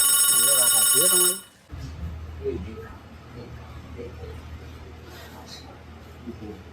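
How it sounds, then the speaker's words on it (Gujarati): A phone's ringtone sounds loudly for under two seconds, a bright repeating melodic tone, then cuts off; afterwards people talk quietly over a low background hum in a comic domestic scene. "એટલે આ ફોન આવે છે"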